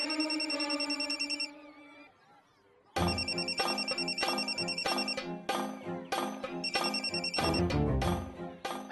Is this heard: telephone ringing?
yes